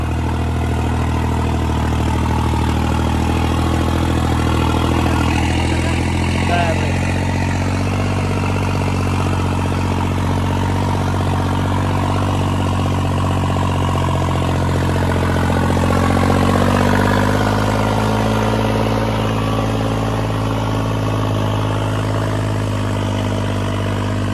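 A tractor engine at full throttle roars loudly and steadily throughout, a deep continuous drone with a slight swell in pitch near the middle.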